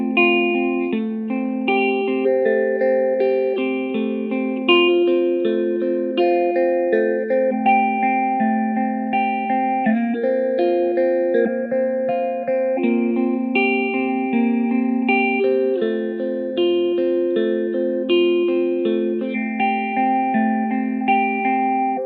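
Guitar played through a pedal with random LFO modulation and fuzz, its sustained, chopped notes wobbling and shimmering with a chorus-like warble, heard alone at a steady, fairly loud level.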